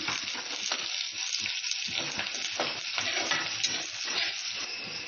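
Onions, garlic and green chillies fry in a pan and are stirred, giving a dense continuous sizzle with soft scraping stir strokes, close and fairly loud throughout.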